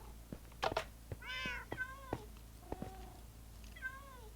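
Several cats in Minecraft meow in turn, short rising and falling calls scattered irregularly, fairly faint over a quiet backdrop.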